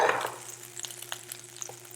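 Butter sizzling in a hot pan with a metal handle, a faint steady crackle and hiss after a brief louder clatter at the start, close and quiet.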